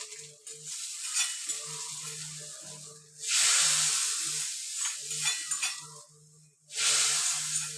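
Fried onions are tipped into a chicken curry: loud bursts of sizzling and stirring flare up twice over a steady low humming tone, with quieter scraping in between.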